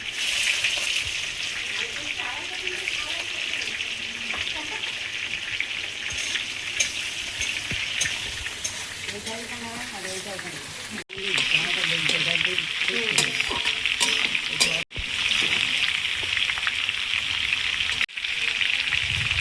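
Chopped onion sizzles in hot oil for a mutton curry, a steady loud frying hiss throughout with occasional stirring scrapes and brief dips in the sizzle.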